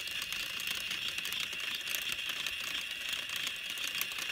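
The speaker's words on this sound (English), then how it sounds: "You can adjust the speed of the merry-go-round by using different sized gears." A Snap Circuits motor spins plastic gears that turn a toy merry-go-round, giving a continuous fast rattling, whirring mechanical drone at an even level, with no voices.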